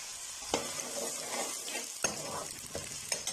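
Finely chopped onion sautéing in a pan for white sauce pasta: a steady close sizzle broken by several sharp spoon knocks and scrapes against the pan.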